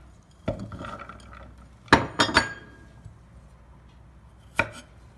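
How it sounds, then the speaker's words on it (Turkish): A knife chops garlic sharply on a cutting board, a few scattered strikes including a quick cluster of three, with quiet pauses between. "Şimdi Sarımsaklarımı da küçük küçük doğrayacağım."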